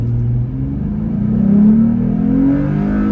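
Jeep Gladiator pulling away from a dead stop, its engine rumbling loud and close as revs climb through a gear change and keep rising.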